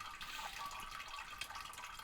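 Gentle continuous watery splashing and trickling as a character drinks water in a survival video game, faint and steady throughout.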